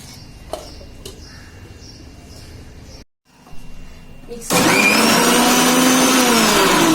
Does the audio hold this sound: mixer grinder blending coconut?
yes